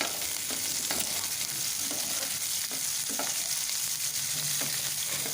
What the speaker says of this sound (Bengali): কুচানো পেঁয়াজটাকে দিয়ে এবার নেড়ে চেড়ে একটু ফ্রাই করে নেব।